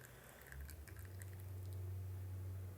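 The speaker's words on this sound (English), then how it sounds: "it's a small continuous pour that will take us a total of 1 minute and 50 seconds" Hot water is poured slowly and continuously over coffee grounds in a Hario 3-4 cup cloth filter, giving a soft, steady close-up trickle and patter under a low hum, with no talk.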